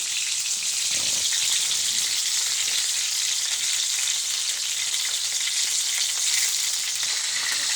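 Beef reshmi kababs fry on a flat iron tawa over low heat, giving a steady, close, even sizzle that holds unbroken from start to end with no voices.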